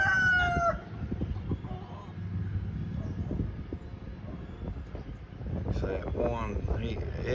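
A farmyard chicken flock calls near a fence, with a rooster's crow at the start, scattered clucks later on and someone talking over the birds throughout.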